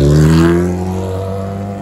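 Race car engine roaring loud and close as it launches from the start line, a strong revving drone that is slowly fading over under two seconds.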